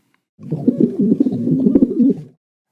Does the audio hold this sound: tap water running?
no